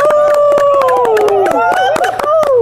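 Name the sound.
applause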